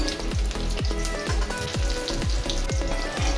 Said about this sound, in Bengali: উল্টে পাল্টে করে হালকা লাল করে এবার আমি এগুলোকে ভেজে নিচ্ছি।